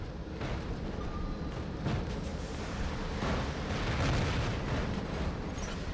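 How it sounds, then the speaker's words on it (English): Robot shotguns blasting and explosions booming in the War Robots video game during a skirmish, a dense, continuous barrage of heavy bursts and rumbling impacts with no talk. "I tried to get him with the shotguns."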